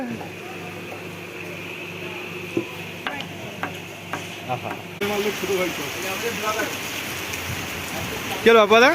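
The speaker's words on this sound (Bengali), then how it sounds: "দারুণ বৃষ্টি পড়ছে তার মধ্যে মুড়ি উৎসব চলবে আমাদের" Heavy rain pours down in a constant broadband hiss while several people talk nearby, the downpour growing louder and denser partway through.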